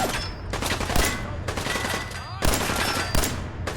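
Video game gunfire rattles in rapid bursts, loud and close, several volleys spaced across a few seconds with no talk.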